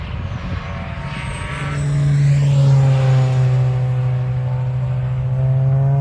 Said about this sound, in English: As we listen to the Wookiee sounds of Marcus Padfield in that black 350Z